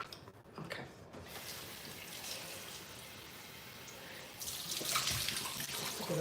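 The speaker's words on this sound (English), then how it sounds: "I'm gonna rinse my face and my neck." Tap water runs steadily into a sink while a face is rinsed, a soft, continuous splashing that grows louder near the end.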